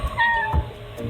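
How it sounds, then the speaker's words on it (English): A house cat meows once, close and clear with a rising then falling pitch, followed by soft bumps and no voices. "your cat is just staring at the door and meowing for no reason"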